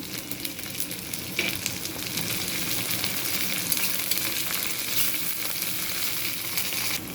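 Pabda fish curry sizzling steadily in a pan after cumin paste goes in, a continuous loud frying hiss with occasional stirring scrapes, no voices.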